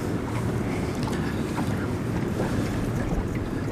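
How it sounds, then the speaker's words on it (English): Steady wind blows across a river around a small fishing boat on a chilly November day, a continuous broadband rush with no talk. "We got a wind that's kind of blowing us sideways and a little bit downstream."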